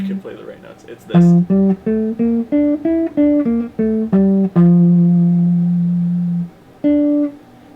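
A clean guitar plays a stepwise scale built from triad notes, about a dozen single plucked notes in even rhythm, ending on a long sustained note, followed by a brief pause and one more plucked note.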